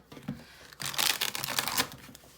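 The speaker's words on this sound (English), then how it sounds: "I'm gonna shuffle a little bit." A tarot deck is shuffled in a quick run of papery riffles and snaps, crisp and close, starting softly and building to a busier flurry before trailing off.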